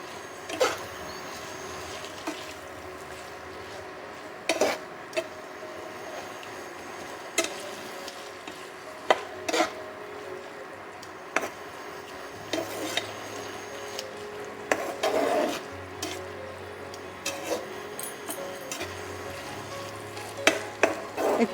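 Chhana, fresh cottage cheese, being stir-fried in a pan: low steady sizzle broken by sharp, regular knocks and scrapes of a spatula against the metal, close and clear with no talking.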